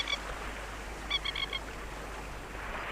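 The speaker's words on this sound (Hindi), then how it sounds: "कितनी सुंदर चिड़िया, देखो कैसे उड़ रही हैं" A radio play sound effect of birds in flight gives a few short, honking, goose-like calls. They come in small clusters over a quiet, hissy background.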